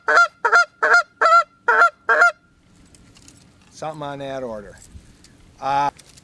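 A goose flute call imitating geese, six quick double-clucking honks in a steady run, followed by a pause, a short talking voice and one last honk, all close.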